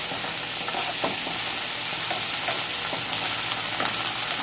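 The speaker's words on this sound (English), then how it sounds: "I just put the cabbage inside of the saucepan" Cabbage cooking in a hot saucepan, giving a steady, continuous sizzle with a constant hiss and occasional soft crackles and stirring clicks, close and fairly quiet, with no talking.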